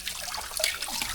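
An indoor tap runs water into water balloons, a brief close gush and gurgle with uneven splashy bursts throughout.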